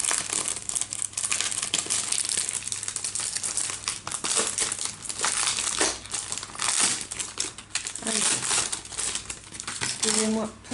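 Paper is cut for an art journal page with a new cutting tool, giving a steady, close, dense crinkling and rasping scrape that continues almost without pause, with a few sharper crunches near the end.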